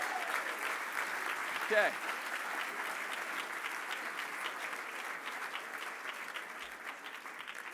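Steady applause from a crowd at a charity gala auction, a broad and even wash of clapping that continues throughout, with a brief voice and a small cheer partway in.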